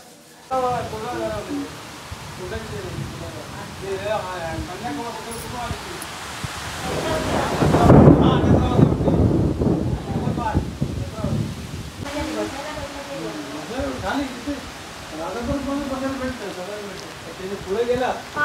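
Heavy rain pours steadily on a village in Vaibhavwadi, Konkan, a dense, continuous hiss that swells louder midway, with people talking over it throughout.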